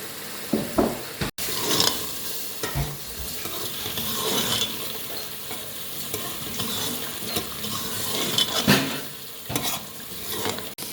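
Masala boti kabab with tomatoes stirs and sizzles in a pan, a steady frying hiss broken by repeated scraping and stirring strokes, close and fairly loud with no talk.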